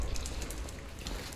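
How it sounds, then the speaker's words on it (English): Steady rain hissing and pattering in the video game Lies of P, a dense continuous wash of drops over a low rumble, alone with no talk. "I like the raindrops as well. It's very atmospheric."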